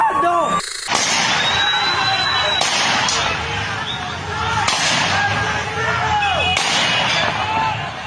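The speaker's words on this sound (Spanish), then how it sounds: "¡Está disparando! ¡Está disparando!" Gunshots ring out in a street as four sharp, loud cracks spaced a couple of seconds apart, each echoing briefly over a restless background of distant voices and crowd noise.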